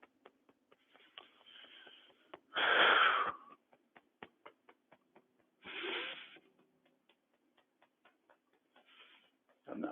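Deep breathing during a breathing exercise, with two long loud breaths and a shorter one between steady faint ticking, each breath a broad airy rush standing out close to the microphone.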